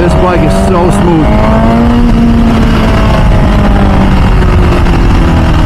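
An MV Agusta F4 Tamburini motorcycle engine revving hard while riding, a loud, close, continuous roar with rising and falling pitch sweeps under wind buffeting.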